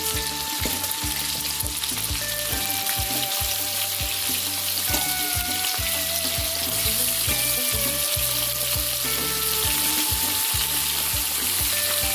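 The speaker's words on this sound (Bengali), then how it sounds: "কড়াইতে রিফাইন তেল গরম বসিয়ে দিয়েছি তেল গরম হয়ে গেছে এবার ফুলকপিগুলো ভেজে নেব" Cauliflower florets fry loudly in hot refined oil in a wok, a dense continuous sizzle close by with repeated knocks and scrapes of stirring, and no voices.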